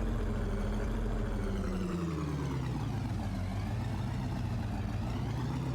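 A tractor engine running in a realistic farming video game, a steady low rumble with a wavering, uneven pitch that suggests stuttering, continuous and fairly close, with no voices.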